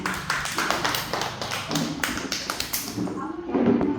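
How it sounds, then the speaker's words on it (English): Hands clap in quick, repeated bursts during a children's shapes lesson, a close and steady run of claps with voices audible alongside. "Clap hands."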